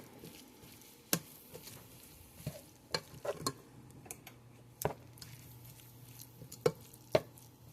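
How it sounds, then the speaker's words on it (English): Zucchini added to a one-pot Mexican beef and rice skillet gives a faint, soft sizzle broken by scattered sharp taps and scrapes from a utensil against the pan. "I'm gonna add in some zucchini"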